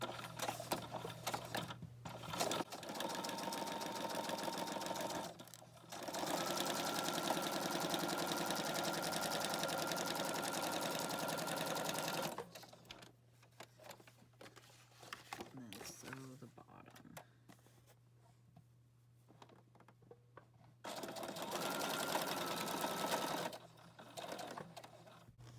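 A sewing machine stitches pages along the side of a junk journal, with several loud running bursts between quieter gaps where handling noises are heard.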